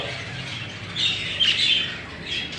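Budgerigars squawk and chirp in a nest box holding chicks, with a steady chattering bed of bird noise and a few louder, sharper calls rising above it.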